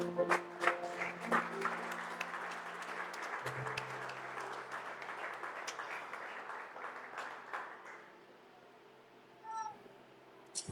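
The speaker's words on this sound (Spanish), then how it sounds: "Dele fuerte ese aplauso al Señor" A church congregation claps loudly for the Lord for several seconds, the dense clapping fading away toward the end, with scattered voices and a brief burst near the close.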